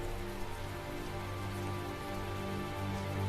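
Steady video-game rain falling on a surface, a dense continuous patter at moderate volume under a low droning hum, with no voices.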